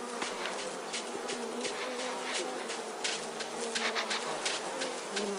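Swarming bees buzz steadily around a wild honey hive high in a tree in Uganda, a dense continuous hum with darting louder passes close by, no voices.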